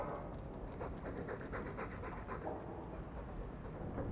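A dog pants steadily in Dragon Age 2, quick rhythmic breaths close up and fairly soft, continuing without pause and with no voices over it.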